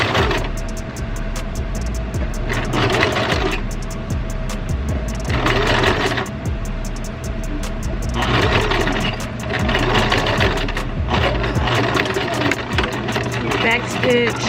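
A sewing machine stitches a wig cap, whirring in repeated bursts of rapid stitching separated by short pauses, loud and close, with a voice speaking at times.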